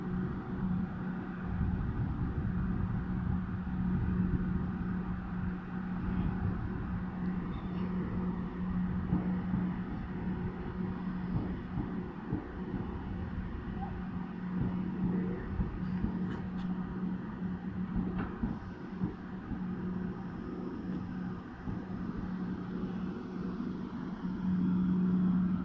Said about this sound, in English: And incoming is the Southern 455s.